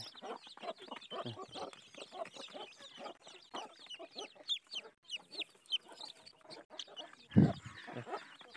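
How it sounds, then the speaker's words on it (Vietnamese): Large chickens clucking and squawking in a dim farm shed, with a dense run of short calls through the whole stretch and one louder, lower squawk near the end. "Gà to này."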